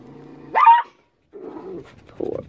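Dogs scuffle as one goes after a puppy: a sharp bark or yelp, then low growling and whimpering whines, close and fairly loud, with no talk.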